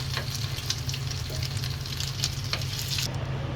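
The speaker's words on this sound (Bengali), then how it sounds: "এ সাইডে যে ডিমটা ভাজি করছি মশলা দিছি" Hilsa fish roe fries in a pan with ground spice paste, giving off a loud, continuous sizzle and crackle close up, with a few stirring scrapes.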